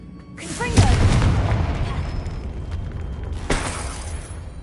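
A Confringo blasting spell explodes in the Hogwarts Legacy video game, a loud booming burst that rumbles on for several seconds before a second sharp blast cracks out near the end.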